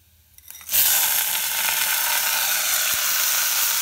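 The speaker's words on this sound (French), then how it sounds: "Il est important de faire revenir le riz et le haricot mungo pendant quelques instants" Rice and mung beans hit a hot pan and start sautéing, a sudden loud sizzle that then holds steady and crackling, close up with no talk.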